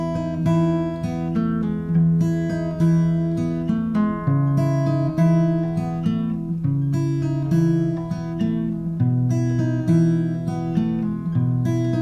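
Acoustic guitar strumming four chord shapes in sequence during a song lesson, steady rhythmic strums ringing close and loud with no talking.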